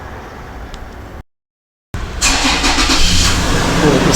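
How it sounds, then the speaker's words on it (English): A Toyota FJ Cruiser engine cranks and fires up after a transmission fluid fill. A brief silent gap comes first, then the engine catches and settles into a loud, close, steady idle. "We're just going to start it up now and go through the gears."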